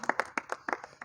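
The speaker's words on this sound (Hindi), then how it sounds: "तालियां जी।" A theatre audience at a stage show gives brief, scattered applause, a handful of distinct hand claps in a loose, uneven patter at moderate distance.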